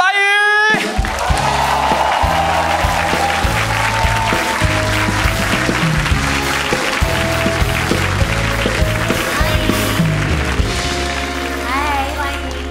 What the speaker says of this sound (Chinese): 各位观众，让我们掌声欢迎简少年和白宇。